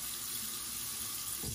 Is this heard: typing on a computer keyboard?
no